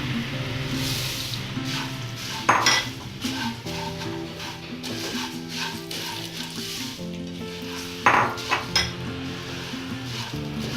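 Puffed rice stirred in a pan for spicy masala pori, giving a continuous light crackling sizzle with rhythmic scraping and two sharp metallic clinks of a spoon against the pan.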